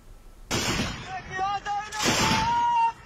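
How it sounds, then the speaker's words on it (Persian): A burst of gunfire rings out during a surprise night attack by ISIS in the desert darkness of Samarra, Iraq, with two loud, sharp volleys echoing through the open air. "رگبار گلوله‌ها در برابر شبیخون داعش"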